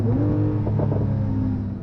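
A Porsche 911 Turbo S coupé engine rumbles and revs briefly as it downshifts, a deep throaty note from its sports exhaust close by that eases off toward the end.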